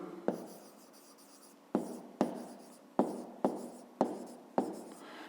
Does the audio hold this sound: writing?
yes